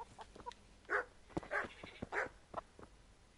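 Barking from a dog in the video game Kingdom Come, a series of sharp, close barks and yips in an irregular rhythm with short gaps, heard without talk.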